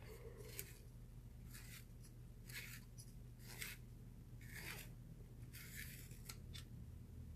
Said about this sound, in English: So I'm going to take my dark purple and sharpen it.